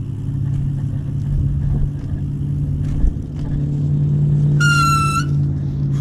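A squeaky front drum brake on a recumbent bicycle gives one brief high squeal partway through, over steady low road and wind rumble during a ride on a trail.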